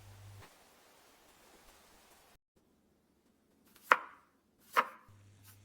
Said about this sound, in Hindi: घर लौटकर हमने सब्जी काटनी शुरू की।